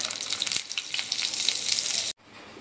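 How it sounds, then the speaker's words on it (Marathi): Butter melting into hot oil left from frying paneer, giving a bright, continuous close sizzle that stops abruptly near the end, leaving only a low background hum. "आता ह्याच तेलामध्ये मी हे बटर घालते।"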